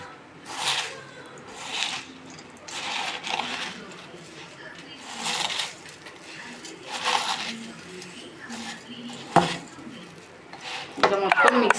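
Puffed rice mixture tossed in a bowl, soft crunchy rustles and scrapes recurring in irregular bursts, with someone talking throughout.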